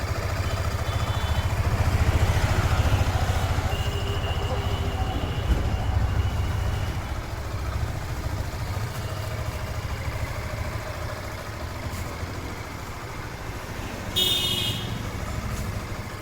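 A 2022 Yamaha FZ V3 motorcycle engine idling steadily nearby, a low continuous rumble with faint background noise and a brief high tone near the end.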